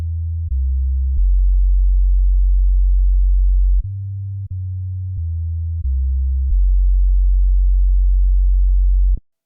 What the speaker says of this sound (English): So let me play you guys this bass line